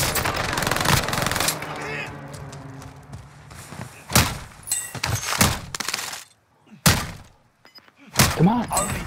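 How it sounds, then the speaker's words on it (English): Precision airstrike explosions in Call of Duty: Modern Warfare land as a series of loud, sharp blasts and thuds spread across several seconds, some close and heavy, with a rumbling game soundscape and scattered voices between hits. "Enemy precision airstrike."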